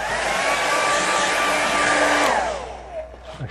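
A hair dryer blows loudly and close up over a watercolour painting of a riverside fishing scene, a steady whooshing whine for a couple of seconds before it is switched off and winds down.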